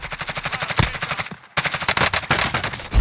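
Rapid automatic gunfire in the Call of Duty: Modern Warfare video game, loud continuous bursts that pause briefly near the middle before resuming at full intensity.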